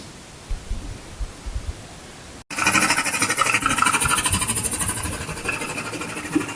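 An air compressor kicks on abruptly and runs as a loud, steady broadband hiss and rumble, following a few faint knocks, at a metal chemical-wash setup built from a single oil drum.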